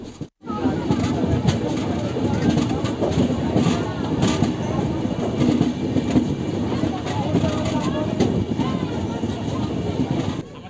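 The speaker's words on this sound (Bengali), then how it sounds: "আমাদের ট্রেনটা কাট আউট করছে দীঘার লাইনে যাওয়ার জন্য" The Tamralipta Express rolls steadily on its way onto the Digha line near Panskura station, giving a loud, continuous rumble and clatter heard from inside the train.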